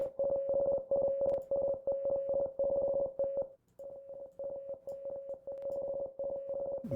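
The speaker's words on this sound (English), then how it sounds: "Morse code." Morse code beeps from a soundboard play as quick rhythmic tone pulses in rapid bursts, clear and alone, with one short pause midway.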